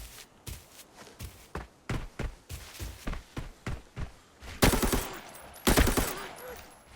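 Gunfire in the video game Arena Breakout: rhythmic footsteps patter along before two loud, close bursts of shots crack out near the end.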